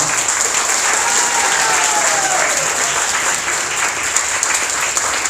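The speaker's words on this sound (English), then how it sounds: "please give me a full round of applause" Steady, dense audience applause fills a demo day event at an accelerator in Taipei, loud and continuous throughout with a faint high whistle-like tone passing briefly.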